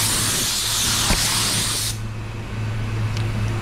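Candy red paint is sprayed from a spray gun in a loud, steady close hiss that cuts off partway through, leaving a low background hum.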